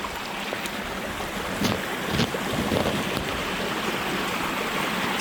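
Clear stream water rushes steadily along a trail in a snowy New Hampshire forest during a blizzard, with a broad, continuous hiss mixed with wind buffeting the microphone and no voices.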